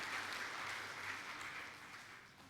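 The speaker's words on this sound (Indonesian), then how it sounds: "Tepuk tanganlah dulu buat Tuhan." A church congregation claps together during a service, a faint, steady patter of many hands that slowly fades toward the end.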